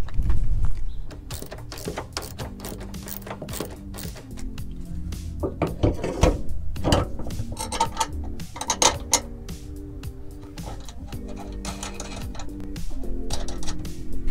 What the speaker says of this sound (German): wenn man die vier Schrauben jetzt festschraubt